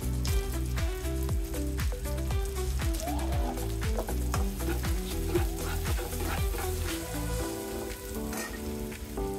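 Vermicelli (semai) frying in a pan gives a steady crackling sizzle under a loud, rhythmic musical backing that dominates the mix.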